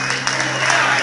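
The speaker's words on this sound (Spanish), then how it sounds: "¡El aplauso fuerte!" Loud audience applause for a performer at a club performance: a dense, close wash of clapping that fills the whole moment, with a steady low hum running underneath.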